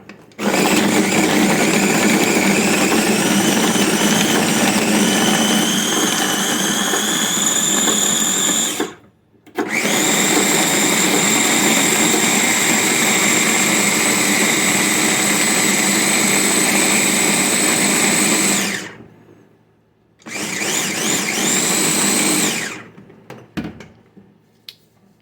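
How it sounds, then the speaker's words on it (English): A Ninja blender whirs loudly at high speed, chopped wild lettuce and water spinning inside, running in three long bursts separated by brief stops. "Once he's chopped it up, I'm gonna blend it really fine"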